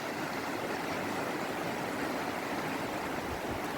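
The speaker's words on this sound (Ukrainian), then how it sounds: "Ось такий поток річки." The Tisza river flows in the Zakarpattia mountains, a steady, even rush of water heard quietly and continuously from nearby with no voices.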